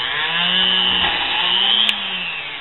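A Dremel rotary tool with a small bit drills holes through a motor casing for spark plug wires, giving a steady, loud high-pitched whine with a gritty buzzing edge that holds throughout and has a brief click near the end.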